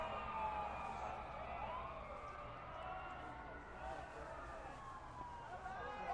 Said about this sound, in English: There goes a fire truck. Yeah, really close to us. An ambulance.